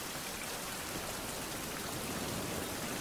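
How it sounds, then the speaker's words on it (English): Steady, dense video game rain hisses evenly throughout, a faint constant wash of falling water with no other sounds. "And it's raining again, so more water."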